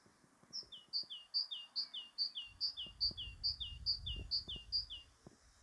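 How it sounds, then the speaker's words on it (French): A bird sings a steady run of about a dozen bright, high chirped notes in even rhythm, each a quick two-part whistle, heard clearly over a soft low rumble of background noise. "Ou le chant des oiseaux."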